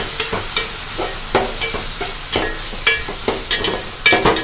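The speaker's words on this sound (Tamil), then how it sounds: "நல்லா எண்ணெயிலேயே வதங்கட்டும்." Eggplant and tomato sautéing in oil for a Pongal offering dish, with a spatula scraping and stirring the pan in quick, regular strokes over a low, steady sizzle.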